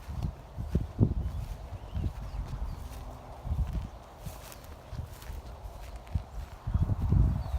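A flock of sheep walking along a fence line on a property's south end, their hooves making uneven clopping steps with scattered thuds, fairly close, without talk.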